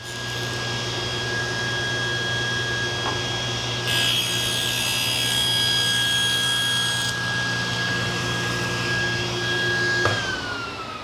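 Wood is cut for a Moxon vise build under a steady machine hum, with a brighter high whine rising for a few seconds in the middle; no voices.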